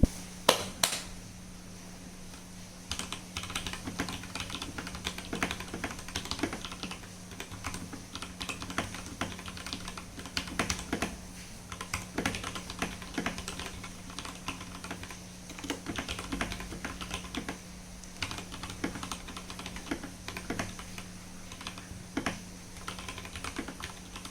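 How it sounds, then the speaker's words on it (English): Rapid clacky keystrokes on a Velocifire TKL02 mechanical keyboard patter steadily for a long stretch, with the odd louder thock from bigger keys, close up with no talking. "let me do a quick typing test"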